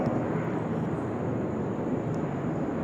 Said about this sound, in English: Hold for the helicopter.